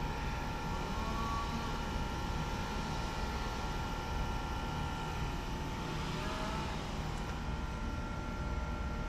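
Several fairly new Day & Night CVH8 variable-speed heat pumps run in cool mode, giving a steady, fairly quiet broadband whir with a low fan drone and a faint hum throughout.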